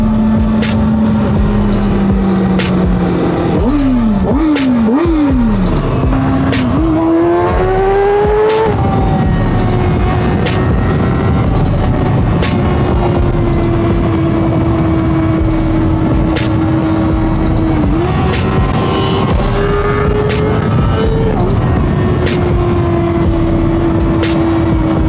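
A 2026 Kawasaki Z1100 motorcycle rides close by, engine revving up and down through gear changes early on and then settling into a steady, loud cruising drone with a rough, whooshing road noise. No one speaks.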